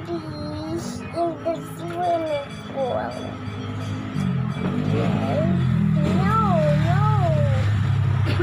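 A cat meows several times at close range, its rising and falling cries overlapping with children's voices talking nearby.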